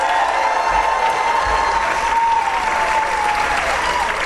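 Loud, sustained applause from a crowd of families at a 4th and 5th grade school band and string concert, with a few cheers and children's shouts mixed into the steady clapping.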